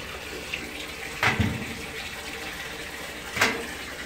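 Water runs in a steady hiss from a line in a mobile home being winterized, with a couple of brief louder bursts and clunks along the way.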